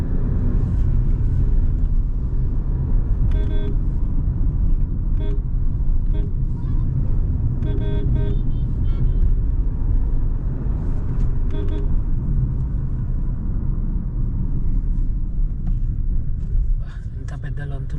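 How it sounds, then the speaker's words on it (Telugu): Lorries and other traffic rumble past on a busy highway, a constant loud engine drone with occasional horn toots, while someone talks over it. "చూడండి ఇక్కడ ఎంత లారీలు ఉన్నాయి"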